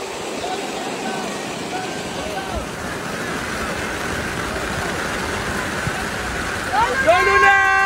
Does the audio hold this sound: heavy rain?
yes